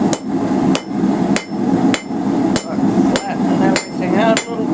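A hammer flattening hot steel on an anvil while forging a simple coal fire rake, with sharp ringing strikes landing about every half second in a steady rhythm, loud and close, with no talk.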